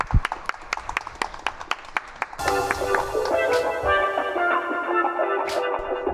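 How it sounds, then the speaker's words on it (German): Audience applause for a reading artist at a live reading: a brief run of separate handclaps, then a denser, louder burst of clapping with some cheering carrying on to the end. "Ein Applaus für die großartige Lesekünstlerin"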